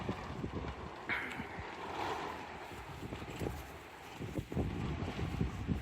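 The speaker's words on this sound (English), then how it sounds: "I thought I would wait a bit for the wind to calm down, but it's not calming down. Just getting worse." Strong gusting wind outdoors buffets the microphone on a cold day, a continuous rumbling roar with irregular surges and low thumps.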